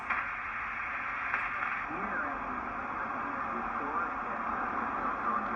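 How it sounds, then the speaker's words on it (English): Static hiss on the 40 m band from a National NC-300 receiver, steady and continuous, with faint wavering tones drifting through the noise. "So you can notch out some of the static"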